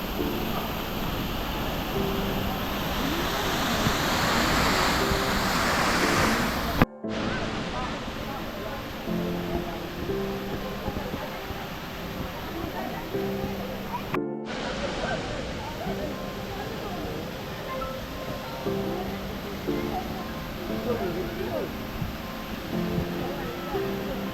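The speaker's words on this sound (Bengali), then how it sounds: "আমরা ফলসের একদম কাছাকাছি পৌঁছে গেছি এবং এই জায়গা থেকে ভিউটা বেশ ভালো আসছে। এত অবধি থাকি, এরপরে জল ছিটকাচ্ছে।" A waterfall in Sikkim, low on water in winter, rushes and splashes steadily close by, a constant broadband wash with two sharp cuts in the recording.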